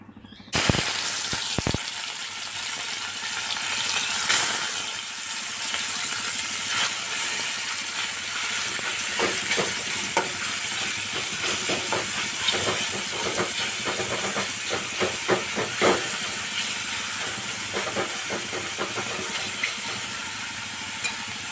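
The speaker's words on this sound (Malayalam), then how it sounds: "ഉപ്പ് മുളക് പൊടി മഞ്ഞൾപ്പൊടി കുട്ടി തിരുമ്പിയിട്ട് ഇതൊന്ന് വറുത്തെടുക്കാം കേട്ടോ" Choodai fish rubbed with salt, chilli powder and turmeric fries in a hot pan, giving a loud, steady sizzling hiss with crackles that carries on for the whole stretch, with no one talking.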